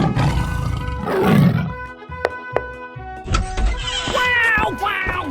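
A tiger roars in a 3D animal slide video game, a loud growling burst early on followed by sharp hits and chirpy, rising game sounds with busy music underneath.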